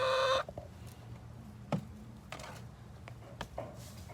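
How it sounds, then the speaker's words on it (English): A small laying hen gives soft, scattered clucks in a quiet backyard coop, faint and intermittent after a brief louder call at the start. "You see that little bitty hen?"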